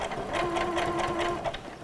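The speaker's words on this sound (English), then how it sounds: "stitch as a simple zigzag stitch on the sewing machine" A sewing machine runs a zigzag stitch while an apron is sewn, producing a steady, close mechanical whir with rapid rhythmic needle clatter for under two seconds.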